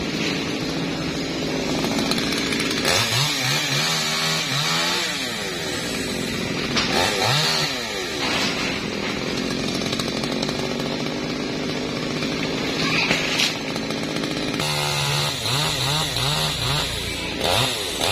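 A chainsaw cuts through a java plum tree near a house, its engine droning loud and continuous for the whole stretch with repeated rising revs and bogging pitch sweeps as the blade bites; no one speaks.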